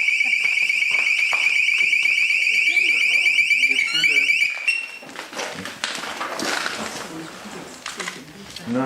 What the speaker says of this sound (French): un détecteur de mouvement se déclenche sans raison apparente